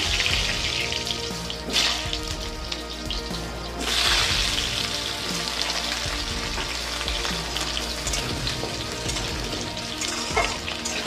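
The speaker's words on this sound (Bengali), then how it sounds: "তেলের মধ্যে জিরে শুকনো লঙ্কা আর তেজপাতা দিয়ে দিয়েছি এর সঙ্গে আমি আলুগুলো ভেজে নেবো" Potato pieces fry in hot oil with cumin seeds, dried red chilli and bay leaf, a busy crackling sizzle with occasional louder bursts as they are stirred, near and without talk.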